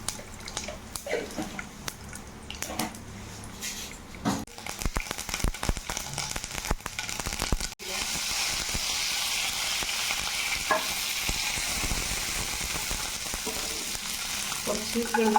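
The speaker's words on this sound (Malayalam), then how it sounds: "ഇനി അതിലേക്ക് കുറച്ച് കടുക് ഇട്ട് കൊടുക്കണേ" Mustard seeds sputter in hot oil in a pan with browning urad dal. Scattered crackles and pops come first, then a dense, steady sizzling hiss that holds loud to the end, with no talking.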